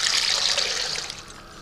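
Water is poured from a measuring cup over pumpkin pieces in a pot, a steady splashing pour that eases off toward the end.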